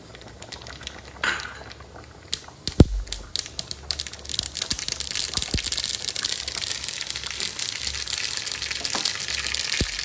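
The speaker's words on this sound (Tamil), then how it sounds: "கடுகு தாளித்து அதில் சாம்பாரில் ஊற்றிடலாங்க" Hot mustard-seed tempering with curry leaves poured into a lentil-free tomato and onion sambar: a sudden close sizzling, crackling splutter that settles into continuous bubbling and popping.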